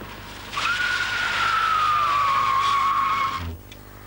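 Car tyres skid under hard braking on a wet test track during a 1992 tyre safety demonstration. A single loud, steady squeal holds for about three seconds, then cuts off abruptly.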